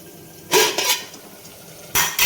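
Lid set onto a cooking pot of onions and green chilies for a drumstick and tomato curry, giving two brief, close clattering knocks over a low kitchen background.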